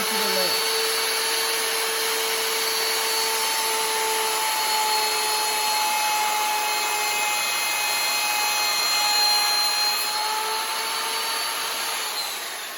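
A power router cuts along a wooden handle, a steady loud high-pitched whine that holds without a break, with a faint voice now and then under the motor.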